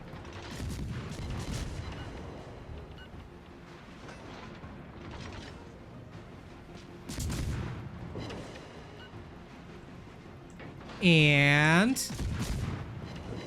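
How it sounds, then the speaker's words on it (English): Warship naval guns firing at close range in World of Warships, several booming salvos spaced apart with rumbling tails, a whistling shell sweep near the end, under someone talking. "If an enemy ship is close enough, you can sort of start bombarding them."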